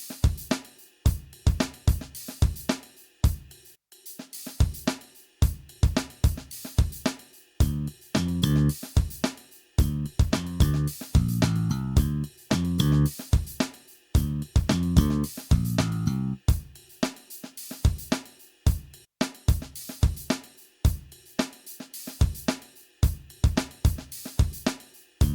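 A punchy, steady drum pattern with tight kicks and snares from the Battery 4 drum sampler; partway through, a thick bass line rolls in beneath the beat, then drops out as the drums continue.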